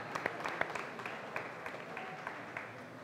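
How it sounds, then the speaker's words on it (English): Audience applause at a craft beer talk event, a faint, thin scatter of clapping with occasional sharper individual claps, distant and fairly sparse. "first round of applause of the night goes to you guys for showing up"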